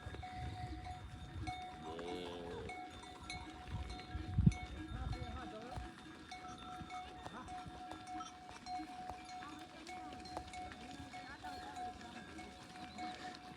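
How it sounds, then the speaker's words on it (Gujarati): A large herd of Ravechi Mata's cows wearing cowbells moves along a stretch of countryside, bells clanking and hooves clopping at a moderate distance in a steady, continuous jumble, with people talking over it. "ગાયો બધી કેમ આવે રહી જો ઠેઠથી ઠેઠ સુધી"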